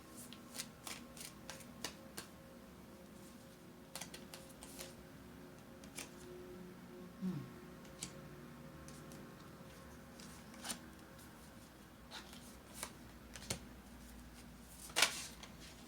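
A deck of tarot cards is shuffled by hand in a quiet room, with soft repeated riffling and sharp card snaps at irregular intervals, fairly faint and close, with no voice over it.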